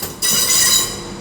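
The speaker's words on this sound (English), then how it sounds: "What's this then? It's another 350." Class 350 electric train at Birmingham New Street on the West Coast Main Line, a loud close rush of carriages with bright wheel squeal and hiss swelling in after a short quiet start, then holding steady.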